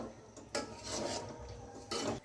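A spoon scrapes and stirs a laddu mixture in a pan, giving gritty rasping strokes in short bursts, close and fairly quiet.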